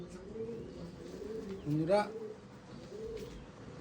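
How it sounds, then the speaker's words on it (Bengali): Andhra pigeons coo in low, rolling phrases close by, one louder burst standing out in the middle, while someone talks over them. "এই হচ্ছে পায়রা।"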